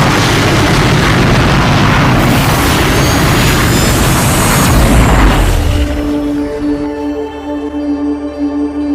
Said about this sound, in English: Yeah, let's turn to fireworks.